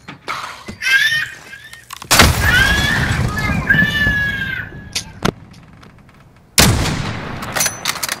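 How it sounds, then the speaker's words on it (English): Call of Duty: Modern Warfare combat: a loud, close grenade blast followed by rumbling debris, sharp gunshot cracks before and after, and a second heavy burst near the end, with a voice calling out in between. "Grenade out!"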